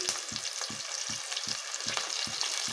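Green chillies and curry leaves fry in hot oil with a bright continuous crackle, punctuated by a regular series of about eight quick stirring knocks against the pan.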